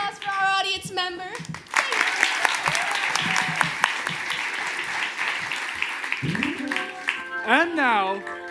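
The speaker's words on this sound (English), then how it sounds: "Can we have another big round of applause for our audience member?" A studio audience at a live 1940s-style radio show recreation breaks into a big round of applause that swells and holds for several seconds, framed by an announcer's voice speaking before and after.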